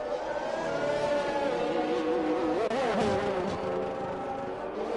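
Formula 1 race cars in F1 2021 at Abu Dhabi, engines droning steadily at high pitch through a corner section, with a rising and falling whine as a car sweeps close, under faint commentary.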